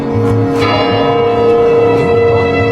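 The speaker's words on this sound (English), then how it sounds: "The bell's sound rang out melodiously, echoing through the entire palace." A large palace bell rings out loud and close with sustained harmonic tones, struck repeatedly so the resonant peals overlap and echo continuously without any talking.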